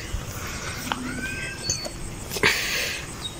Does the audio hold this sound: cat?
yes